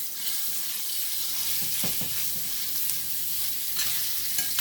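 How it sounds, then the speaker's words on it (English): Chicken pieces frying in a pan for a Cajun chicken pizza, a steady broadband sizzle throughout with a few soft stirring scrapes in the middle and near the end, no talking. "we're going to cook this chicken just enough to take the pink out of it"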